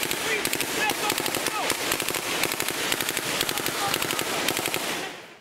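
Small arms gunfire erupts in a Taliban ambush, dense rapid bursts of automatic shots crackling continuously and loudly before cutting off at the end.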